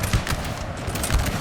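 Musket volley fire from massed infantry in the Napoleon Total War video game, Battle of Krabbendam 1799: a dense, rolling crackle of overlapping shots sustained throughout, with heavier thumps near the start and end.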